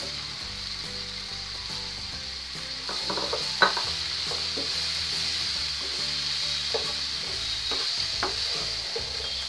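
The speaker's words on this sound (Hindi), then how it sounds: "गोभी को अच्छे से मिक्स कर लेंगे मसाले में" Cauliflower stirred into a sizzling masala in a pan, steady frying hiss throughout with intermittent scraping and clinks of the spoon against the pan, no talking.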